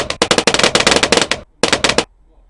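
Fighter planes launched from an aircraft carrier tower in Bloons TD 5 fire in a loud, fast rattling burst lasting over a second, a brief pause, then a shorter second burst before it cuts out.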